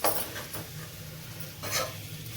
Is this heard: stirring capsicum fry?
yes